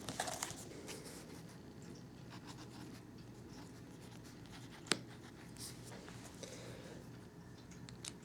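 A pen writes on good-quality paper with a faint, steady scratching under a low room hum, broken by a few soft ticks and one sharp tap.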